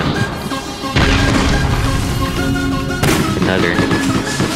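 Gunfire from an overpowered gun in the online shooter APB: Reloaded, dense and loud bursts starting abruptly about a second in and again at three seconds, with a brief voice over the noise.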